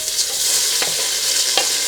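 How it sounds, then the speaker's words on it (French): Strips of tofu bacon frying in a drizzle of olive oil in a saucepan over medium-high heat, a loud continuous sizzle with a couple of brief sharper crackles as pieces are stirred. "Dans ma casserole sur feu moyen fort, je mets mon filet d'huile d'olive et ensuite j'y dépose mes lardons de tofu."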